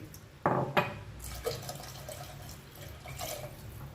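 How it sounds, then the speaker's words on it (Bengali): Water is poured into a pot holding soaked foxtail millet, giving a couple of sharp splashes followed by softer trickling and sloshing, close by and without talk. "আমি এখন সাথে সাথে জল দিয়ে দিচ্ছি।"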